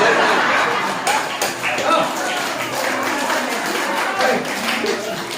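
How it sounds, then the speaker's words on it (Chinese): Wedding guests at an Amis ceremony clap together in a steady burst of applause, with voices talking loudly over and around the clapping throughout. "好，我们大家鼓掌。"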